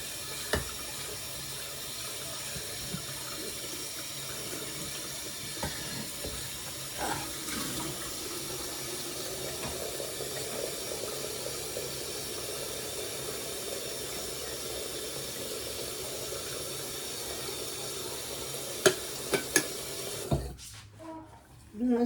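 A kitchen tap runs steadily into a sink while dishes and pans are washed, with faint clinks of handled dishware throughout before the water cuts off near the end.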